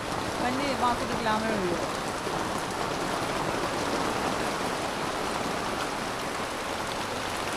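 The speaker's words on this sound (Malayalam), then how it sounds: "രാമഴ രാമഴയുടെ ടൈപ്പ് മഴയാ" Evening rain falls steadily in Kerala as a soft, continuous wash of noise at moderate distance. A voice is heard briefly near the start.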